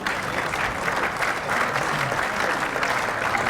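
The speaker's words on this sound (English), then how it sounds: "a special round of applause for our Umpire of the Year" Applause at an Australian football league medal presentation night for the Umpire of the Year: loud, close, continuous clapping from a sizable crowd, filling the whole stretch without letting up.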